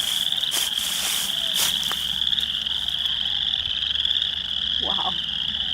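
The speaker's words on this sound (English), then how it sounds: "Can you hear that? Those frogs?" Frogs croak steadily amid a constant high peeper-like trill, with a few brief louder calls rising over the chorus in a wet forest preserve; no one speaks.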